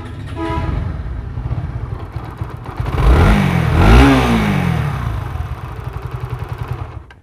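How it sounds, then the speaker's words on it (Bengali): A repaired motorcycle with lingering faults revs up on a test ride. The engine rises and falls through a couple of throttle sweeps at moderate loudness under a steady idle chug, without speech. "ইঞ্জিনের সাউন্ডটা আপনারা আবারও শুনুন।"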